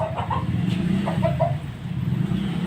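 Chickens cluck in short bursts at close range, likely young five-month-old fighting-cock stock, over a steady low hum of background noise.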